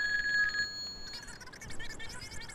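Telephones ringing in the PC game Grand Theft Auto 2: a steady electronic ring tone, then a rapid burst of warbling bell rings, loud and close with no talk.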